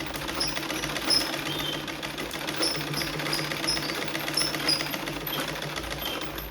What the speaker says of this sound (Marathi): मागासारखं कापड सुटू नये म्हणून अशी टीप मारून घ्यायची शिलाई.